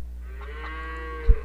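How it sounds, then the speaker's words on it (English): A cow in Age of Empires 2 lets out a single drawn-out moo, a low tonal bellow with a falling pitch, close and clear, ending with a short thump. "Oh, quit mooing."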